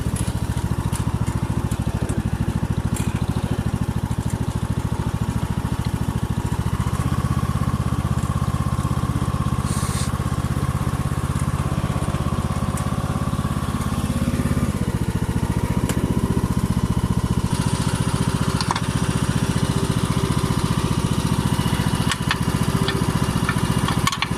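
A tractor engine runs steadily throughout, a loud continuous rumble with a slight shift in pitch partway through.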